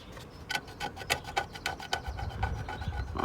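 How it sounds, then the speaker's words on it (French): Old, dirty paint is scraped off a part from a wrecked TZR motorcycle, making a quiet, quick series of rasping strokes, about a dozen in an uneven rhythm. "Maintenant il faut gratter."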